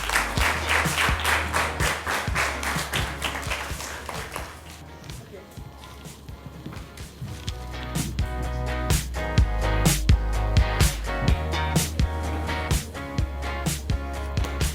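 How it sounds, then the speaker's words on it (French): Applause from an audience at a Senegalese children's quiz prize-giving, steady clapping with strong music underneath and a brief dip before rising again. "Vous applaudissez."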